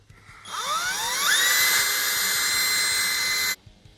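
A power drill with a blunt bit whines alone while drilling through a shed wall, pitch climbing as it spins up, then holds a steady high-pitched grind for about three seconds before cutting off abruptly.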